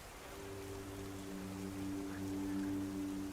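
Steady rain hiss fills a cold rainy night, soft and even under a low tonal hum, with no voices.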